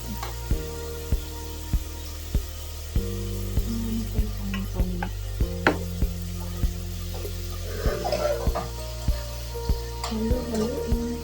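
Pork nilaga being stirred in a pot, a spoon knocking the pot in a steady run of light taps over a low simmering hum, faint and close, with no talking.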